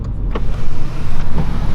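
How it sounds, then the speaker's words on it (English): A car's electric sunroof motor whirs open inside the cabin, a brief mechanical hum over low interior rumble, with no talking. "Does the sunroof open?"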